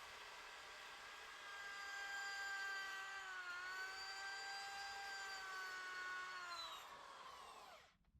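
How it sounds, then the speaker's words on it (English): Angle grinder grinding a small area of a motorcycle frame, a steady high-pitched whine with slight pitch dips under load for about seven seconds before spinning down. "need to grind a small area down for the ground for the welder to attach to"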